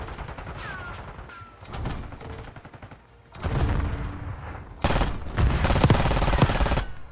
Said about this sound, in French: la compacte elle tire vite, hein